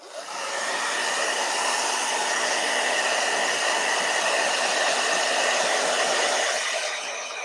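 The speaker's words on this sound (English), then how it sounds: "Hold on, blow dryer." A blow dryer runs continuously with a steady, loud airy hiss and whine, starting and ending softly at the edges with no voices.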